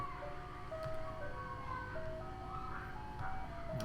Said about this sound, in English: I wonder if you guys can hear the ice cream truck